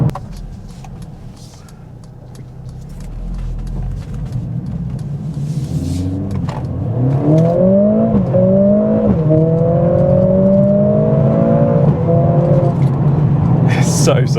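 A 2021 Mercedes CLA45s AMG accelerates hard on the road, its engine note rising through climbing gear pulls with a brief shift break between them. The sound is heard from inside the car, and talk runs underneath.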